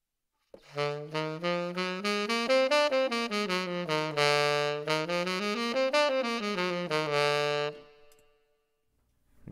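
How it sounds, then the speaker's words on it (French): A run of quick melodic notes of the altered scale played on a keyed instrument, rising and falling steadily for several seconds before ringing out and fading. "ça, c'est le son de la gamme altérée"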